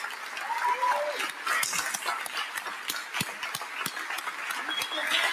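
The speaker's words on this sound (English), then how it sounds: "please make sure you give her a big round of applause." A union rally crowd in Philadelphia claps for the mayor, a dense patter of hands with sharp individual claps, while voices and cheers rise in the mix throughout.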